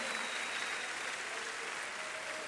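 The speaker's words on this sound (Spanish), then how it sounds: "Vamos a darles un fuerte aplauso nuevamente." A church audience gives a loud, steady round of applause after a sermon welcome, an even wash of many hands clapping throughout.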